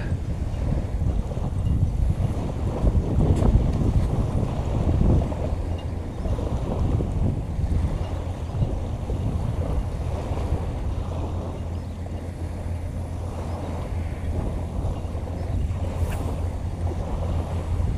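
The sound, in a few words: strong wind at sea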